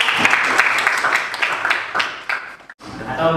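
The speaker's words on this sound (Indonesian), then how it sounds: "Beri aplaus dulu ya" An audience claps in a classroom after a math lesson on factorials, a brief burst of scattered applause that fades in and out and is close by, with no voices over it.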